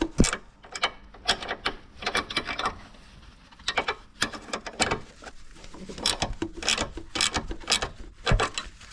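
A bracket for a K&N 57i induction kit on a Corsa B being tightened into the factory airbox mount, giving repeated ratcheting clicks in short, uneven bursts with brief pauses, close up and fairly loud.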